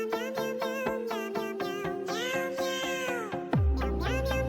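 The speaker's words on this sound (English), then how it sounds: "This pair of cats have grown up together. but they cannot stop arguing" Two cats argue in a string of close, clear meows, one after another, with drawn-out wavering cries and a sudden low thump near the end.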